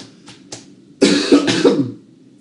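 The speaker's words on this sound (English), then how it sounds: "I'm still coughing." A few quiet breaths or small throat sounds, then a burst of three harsh coughs close to the microphone.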